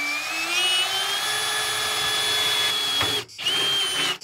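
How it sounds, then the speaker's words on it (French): An Einhell power drill bores through the fender of a Mazda 929, a loud steady high whine that holds for about three seconds, cuts out briefly, then spins up again near and close. "là on va percer l'aile. Avec ma magnifique perceuse Einel que je remercie encore une fois."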